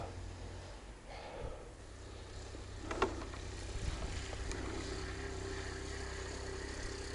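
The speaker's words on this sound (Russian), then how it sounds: "Машина, там мотоцикл." A motorcycle engine rumbles low and steady in the distance, with a brief louder rise as it passes by.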